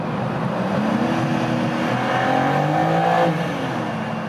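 An Audi RS5 or BMW M4 engine growls loudly in a tunnel, revving up in rising pitch as it downshifts with paddle shifters, then easing off.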